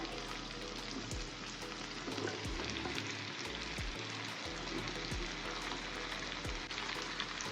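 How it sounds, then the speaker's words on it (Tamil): Mushrooms hit a pan of half-cooked tomatoes and fry with a loud, steady sizzle, punctuated by several knocks and scrapes of stirring over the continuous crackle. "தக்காளி வந்து ஹாஃப் குக் ஆயிடுச்சு மஷ்ரூம் சேர்த்துக்கிறேன்"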